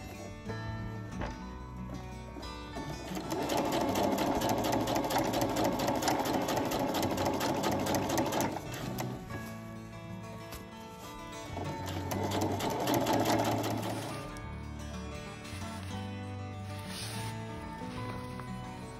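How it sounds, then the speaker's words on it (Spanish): A sewing machine stitches a hem around a foldable fabric shopping bag, running in two long, steady bursts of close, even stitching, with short pauses and handling noise between them. "Entonces hago un pequeño dobladillo y coseré alrededor."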